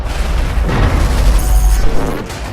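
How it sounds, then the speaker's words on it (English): Battlefield 4 skyscraper collapsing under heavy bombardment of its ground-level support pillars: a loud, continuous rumbling roar with crashing bursts layered through it, close and alone with no talk. "Attacking the building's support pillars at the ground level with heavy bombardment will eventually lead to the building's collapse"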